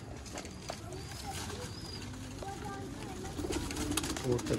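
A Sialkoti Batera pigeon coos softly in repeated low phrases, nearby, over a busy background of other birds and faint voices.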